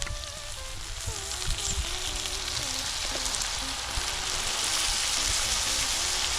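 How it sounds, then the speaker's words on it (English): Browned venison sizzles in a pan as beer goes in to deglaze it, giving a steady crackling hiss that grows slightly louder, with a faint tonal whine underneath and no speech. "Now our meat's pretty well browned up, so it's time to deglaze."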